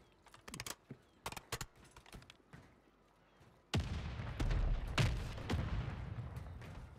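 Call of Duty gunfire on Rebirth Island: scattered sharp single shots at first, then from midway a louder, dense burst of heavy rapid fire and booming impacts, close and harsh, continuing to the end.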